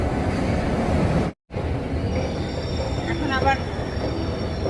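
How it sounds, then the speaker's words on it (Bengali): A London Underground District line train rumbles steadily throughout, with a thin metallic whine running high above. A voice talks briefly over the noise. "ডিস্ট্রিক্ট লাইনের ট্রেন ধরতে হবে।"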